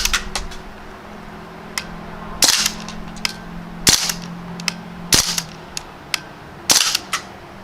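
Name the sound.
Crosman Panther Arms DPMS BB rifle firing bursts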